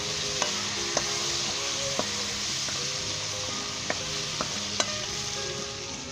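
Ingredients for Pakistani-style chicken Chinese rice stir-frying in a hot pan, a continuous close sizzle broken by regular sharp clinks and scrapes of a spatula against the metal.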